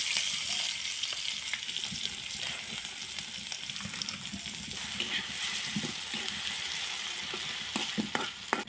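Spices frying for a Bengali fish curry give a steady close sizzle in a hot pan, with occasional scraping clicks of stirring running through the whole stretch, no talk over it.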